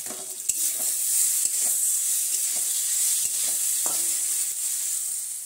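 Mustard, green chilli, ginger and garlic fry in a pan while being stirred. Loud, steady sizzling runs under occasional scrapes and taps of the spatula against the metal, with no voices.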